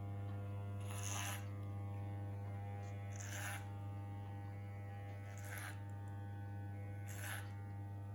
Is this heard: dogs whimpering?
no